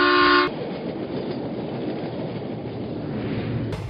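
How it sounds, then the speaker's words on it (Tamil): A cartoon train bound for Tirupati blows a short horn toot, then settles into a steady rumbling rattle of rolling wheels that carries on, loud and close, with no voices. "எல்லாரும் திருப்பதிக்கு போற ட்ரெயின்ல ஏறினாங்க."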